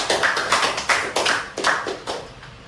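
Audience at a university group guidance session clapping hands, a sparse uneven patter of individual claps with distinct sharp taps rather than a dense roar.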